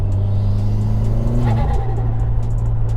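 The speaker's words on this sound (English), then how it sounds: "this GrimmSpeed bypass valve sounds absolutely amazing" A turbocharged car with a GrimmSpeed bypass valve pulls in third gear at moderate speed with a steady low engine drone that rises and then drops off, followed by faint whooshing bursts heard from inside the car.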